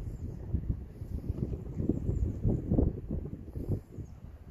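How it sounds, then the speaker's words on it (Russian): Wind blows outdoors in a steady, low, rumbling rush with gentle gusts, moderately loud and with no one talking. "Ветер дует."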